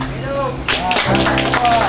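Applause at a theological college graduation ceremony breaks out partway through, a burst of clapping from the assembled crowd over a voice speaking at the start.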